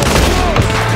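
Gunfire in the video game Red Dead Redemption 2: dense, continuous volley of shots with booming low end filling a short burst, loud and close, no talk over it.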